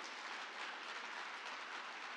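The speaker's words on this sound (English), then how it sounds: "round of applause for Stephen" Faint, steady applause from a crowd, a continuous wash of clapping with no voices.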